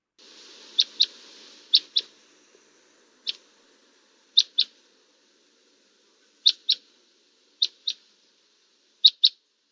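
Song of a northeastern finch, a series of sharp, high paired chirps spaced through the recording, clear and fairly close against a quiet background, with a soft hissy twitter at the start.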